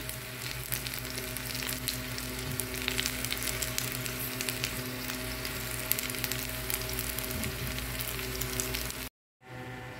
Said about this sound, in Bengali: এখানে রসুনগুলো এরকম একদম বাদামি করে ভেজে প্লেটে উঠিয়ে নিব